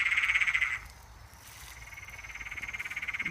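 Frogs croaking at night in fast pulsing trills, loud at first, dipping briefly, then returning in a steady rhythmic chorus with faint insect buzz beneath.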